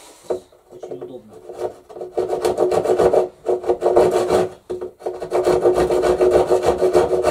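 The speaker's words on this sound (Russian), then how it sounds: "Чем хороша вот эта ножовка, что она пилит и поперек волокен, и вдоль волокон." A handsaw cutting through wood, the blade rasping in steady strokes, loud and close, with brief pauses between bursts of sawing and no talk.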